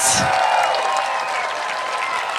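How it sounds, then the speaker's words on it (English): Crowd applause for the graduating class of 2025 at a secondary school graduation, dense clapping mixed with a few cheers and some voices, fairly loud throughout. "let's give a big round of applause for the class of 2025"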